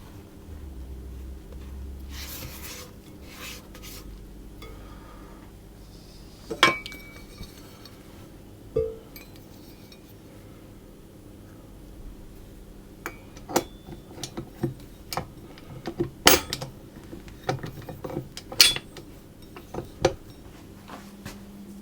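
A utensil mixing sticky bun ingredients with yeast in a bowl gives quiet scrapes, then a scattered run of sharp clinks and taps that grows busier toward the end, close by over a low steady hum.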